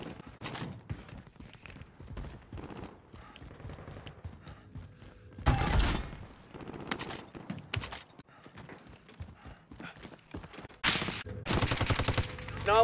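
Gunfire in the video game Call of Duty: Modern Warfare: scattered shots and loud, dense bursts of automatic fire, with short pauses between volleys and the heaviest bursts near the middle and end.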